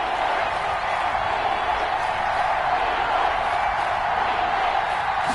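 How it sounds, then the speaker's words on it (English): A football stadium crowd building before a big third down in a game against the Titans, a dense, steady roar of many voices and cheering throughout, no single voice standing out. "the crowd getting into it as we come up on a big 3rd down"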